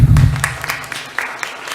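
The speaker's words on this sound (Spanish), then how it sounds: "Un aplauso, por favor." Audience applause at a Peruvian corporate law seminar, fairly faint and sparse claps that trail off quickly after a low speaking voice at the start.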